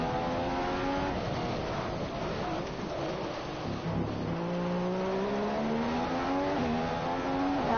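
A Ferrari Formula 1 car driven in the game F1 2015, a loud high-revving engine whine climbing through gears with a dip around a corner, continuous and close.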